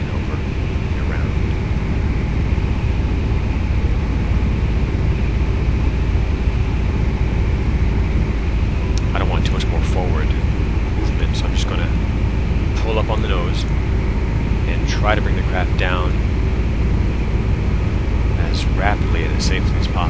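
An EH-101 helicopter flying in Microsoft Flight Simulator X gives a loud, unbroken engine and rotor drone throughout, with a voice speaking over it in the second half.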